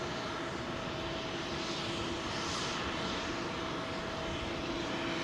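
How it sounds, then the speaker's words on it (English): An airliner arriving at London Heathrow runway 27L produces a continuous engine roar with a steady tonal hum, fairly loud and unchanging, heard alone without talk. "You can already see, I think, an aircraft on arrivals."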